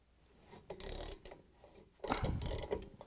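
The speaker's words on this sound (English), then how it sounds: "install the 19mm socket wrench onto it and turn the bolt counterclockwise" A 19mm socket wrench turns counterclockwise on the rotor bolt of a Samsung washing machine motor, giving two bursts of ratcheting, clicking mechanical noise close up, with no talk.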